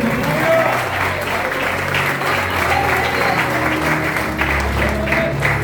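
A church congregation applauds together at an evening family service, a dense and steady clapping that fills the room for several seconds without a break.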